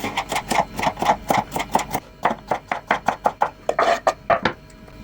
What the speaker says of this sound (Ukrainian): І нарізаємо ось так соломкою.